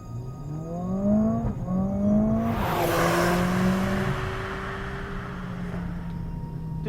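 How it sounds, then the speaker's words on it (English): A Mercedes-AMG A45S with a 2-litre turbocharged engine drives, its engine tone climbing through revs before a shift, then a rush of broadband noise as it pulls on steadily and loudly. "That 2-litre turbocharged engine is just super powerful, and the power band is very linear."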